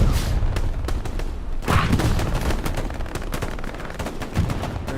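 Rapid gunfire bursts crack in a competitive video game match, a player shooting through a wall, with dense repeated shots and a few heavier hits over about five seconds.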